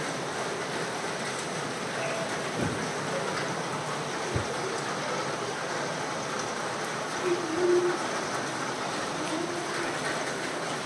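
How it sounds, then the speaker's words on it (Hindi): Rain drums steadily on fiber roof sheets at a hillside stay in North Bengal, a dense even patter filling the whole stretch with a few soft knocks and faint background voices. "इस वजह से आवाज़ आ रही है बारिश का"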